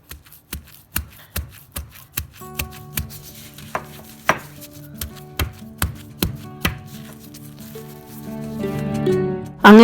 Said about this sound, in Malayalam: ശർക്കര കൂടി ചേർത്തൊന്ന് ഇടിക്കുകയാണ്